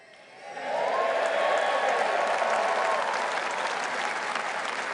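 A room full of people at a political press conference breaks into sustained applause. It swells quickly and holds as a dense, even wash of clapping throughout.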